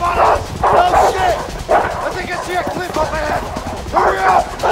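Dogs chasing two fleeing escapees in the video game A Way Out, barking and yipping in repeated loud bursts, mixed with panicked shouting.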